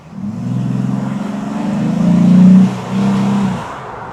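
A Jeep engine with a new, louder, less restrictive exhaust revs up close by: a deep, throaty rumble that builds, peaks, briefly dips and then surges again, with no voices.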